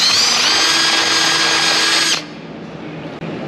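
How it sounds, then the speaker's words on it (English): A power tool whines loud and close for about two seconds, cutting nuts off during engine work on a VW Golf Mk3 1.8 20v turbo conversion, then stops abruptly into a quieter hum with a brief click. "So let's cut these nuts off and then put the starter in"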